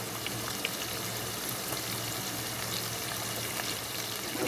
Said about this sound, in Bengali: এটাকে একটু কষাই নিব পেঁয়াজ আর চিংড়ি মাছের সাথে